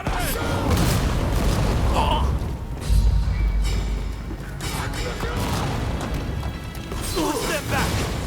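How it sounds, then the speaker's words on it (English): Cannon fire in Rise of the Ronin: a deep boom bursts out around the three-second mark amid a dense, noisy battle din of crashes and clattering mechanisms that runs throughout. "The cannon!"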